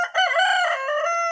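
A chicken gives a loud, close, harmonic call lasting about a second, crowing or squawking on its own with no talk.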